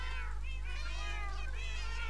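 Several cats meow over and over in the Minecraft video game, their high, wavering calls overlapping in quick succession above a steady low hum.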